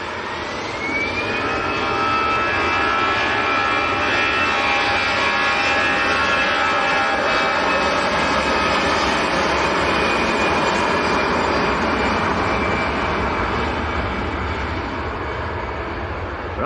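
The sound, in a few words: Airbus A320 jet aircraft at Manchester Airport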